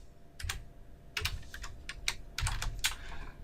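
A name is typed on a computer keyboard in several quick, close bursts of light keystrokes separated by brief pauses, quiet and without speech.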